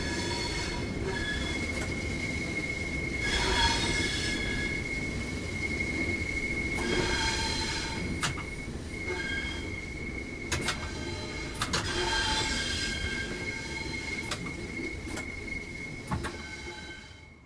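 A train slowing down in the Train Sim World 3 video game: a continuous rumble of rolling wheels with sustained high-pitched wheel squeals rising and fading throughout, no talking.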